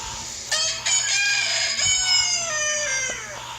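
A recorded rooster crows, one long drawn-out cock-a-doodle-doo with a few stuttering onsets, loud and close over a faint low hum.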